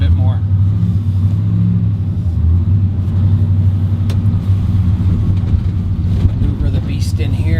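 A vehicle engine kept revved while maneuvering near an orchard, a loud, close, steady low rumble with slight rises in pitch, and a voice talking over it at times.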